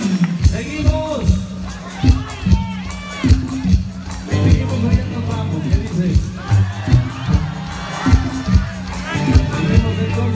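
Concert crowd at a show at the Teatro del Pueblo during the 2019 Tijuana fair, cheering and shouting in rhythmic bursts beneath loud music, with a performer talking over the noise.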